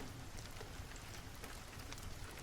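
Steady background rain falls as a soft, continuous hiss of drops on surfaces, quiet and even throughout, with no voices.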